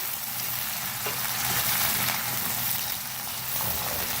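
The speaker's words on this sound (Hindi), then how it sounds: "पहले हम प्याज को फ्राई करेंगे" Finely chopped onions fry over a medium flame in a pan, a close, steady hissing sizzle with soft bubbling and no stirring or talk, even in loudness throughout.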